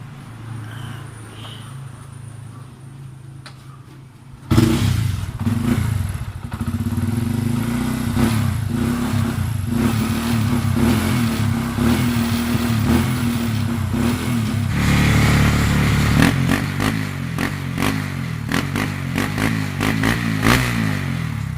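A Bajaj CT150 motorcycle engine, just repaired, starts up and runs steadily at close range, with clattery idle and a few rising revs throughout, no talking over it.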